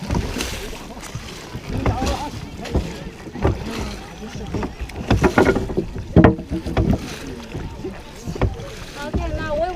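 Oars dip and splash in water as a rowboat moves along on a river in China, with rhythmic strokes, wind noise and people talking nearby.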